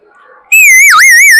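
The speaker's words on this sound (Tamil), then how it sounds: "மூக்கிலே வந்து விசில் பண்ணலாம்" A person whistles through the nose, producing a loud, clear, wavering tone that bends down and back up, after a faint softer whistled start.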